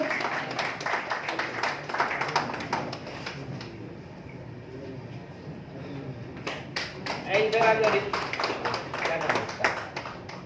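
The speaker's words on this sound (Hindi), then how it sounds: "जोरदार तालियां हो जाए भाई शकील साहब के लिए" Audience applause at a community service honours evening at the Academy of Fine Arts, a steady spread of clapping across the hall mixed with talk, dipping briefly midway and then swelling again.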